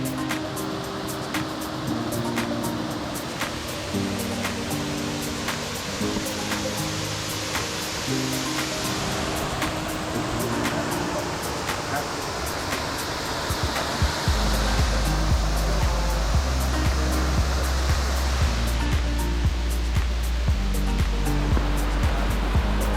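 Erawan Falls, a seven-tier waterfall in a Thai national park, gives off a steady, loud rush of falling water. Music plays over it throughout, and a deep low tone fills the second half.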